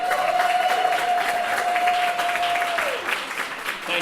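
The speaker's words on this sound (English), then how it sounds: "round of applause for this lovely lady who comes down" Audience applause at an awards event as a speaker comes on stage, dense continuous clapping from a large crowd with a steady tone sounding over it before it fades.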